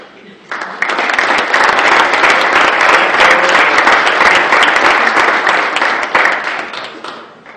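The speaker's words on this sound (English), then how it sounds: "if you all give him a nice round of applause" A live community-event audience gives a steady round of applause for a guest, dense clapping at full strength throughout, easing slightly toward the end.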